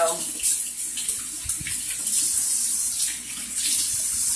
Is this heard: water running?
yes